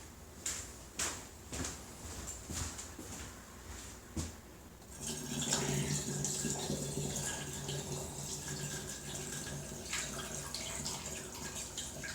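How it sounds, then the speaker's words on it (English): Cold water runs steadily from a tap during dandelion mead making. A few knocks and clicks come first, then a continuous rushing flow for about seven seconds, close by, with no talking. "Get some more cold water."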